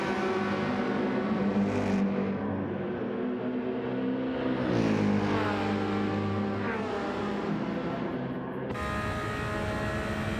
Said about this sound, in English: Wade happy to be in the slipstream of that Merc, as it does outpower the Porsche down these straights